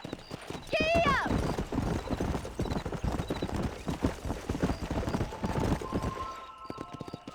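Horse hooves clip-clop at a galloping pace in the western game Red Dead Redemption, a whinny rising at the start, with rapid loud rhythmic hoofbeats continuing under brief talk.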